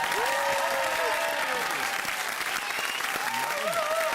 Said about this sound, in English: A round of applause for Wayne Thorpe.